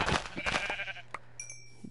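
Sheep bleating in Minecraft, a few short game-sound bleats up front followed by quieter tones and a steady low hum, with no talking.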